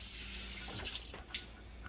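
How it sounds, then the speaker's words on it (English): Water runs steadily from a kitchen tap as food is washed under it, a continuous close hiss with a few soft splashes and clinks from the sink. "I like to wash it a little bit, and after we wash it, dry it off real good"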